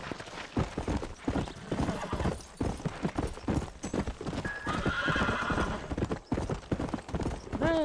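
Horse in the Red Dead video game, its hooves clip-clopping in a rapid galloping rhythm, with a loud neigh breaking through partway, close and prominent, with only faint speech in the background.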